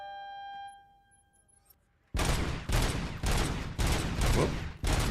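Gunfire at a shooting range in the RoboCop: Rogue City video game: after a quiet stretch with a faint electronic tone, a burst of loud, close shots rings out in five or six heavy, evenly spaced blasts.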